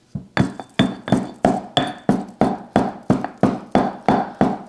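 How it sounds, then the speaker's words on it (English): Salt and peppercorns are pounded in a stone mortar, giving about a dozen sharp, evenly spaced gritty clacks at close range with no voices. "So I'm crushing down the salt, the peppercorn, and then you just kind of do a rolling and scrubbing motion, right?"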